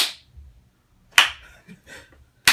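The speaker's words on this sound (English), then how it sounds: "Not with the slow clap." Slow clap: three sharp, close hand claps spaced evenly about a second apart, each followed by a brief quiet gap with faint low rumble.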